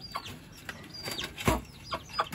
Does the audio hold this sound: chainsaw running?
no